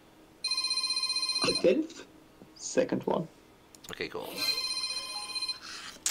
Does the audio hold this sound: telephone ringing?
yes